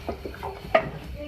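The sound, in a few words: stirring cardamom powder into beef stew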